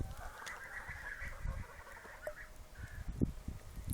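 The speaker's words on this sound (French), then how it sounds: "Le petit canard, là, tout petit." Faint honking and quacking calls from ducks and fowl in a farmyard, a few brief squawks scattered over a soft, noisy background.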